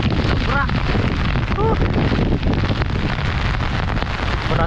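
Strong typhoon wind roars near a river during a Signal No. 3 storm with heavy rain, loud constant buffeting hitting the microphone, with brief faint voices at moments.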